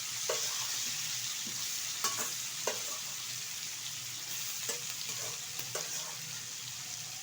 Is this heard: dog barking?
no